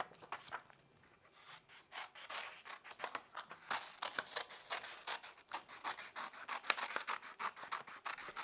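Scissors cutting strips of paper make a quick series of crisp snips and rustling scrapes, steady and close by, with a faint pause near the start.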